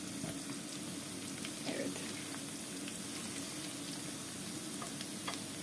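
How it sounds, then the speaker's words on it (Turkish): Garlic and chopped vegetables sauté in a pan for a vegetable bulgur pilaf, giving a steady, soft sizzle with light stirring scrapes throughout; a voice briefly speaks over it. "Sarımsaklar özellikle kavrulurken çok güzel koku yaydı"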